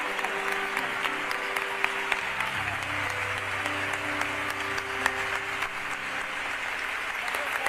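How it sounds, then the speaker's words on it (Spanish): An audience at a festival proclamation speech in Córdoba applauds a young woman and her siblings, steady sustained clapping at moderate level with a low hum and faint voices beneath. "¡Fuerte aplauso!"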